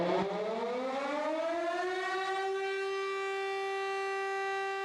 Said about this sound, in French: personne ne semble vraiment surpris que la sirène se déclenche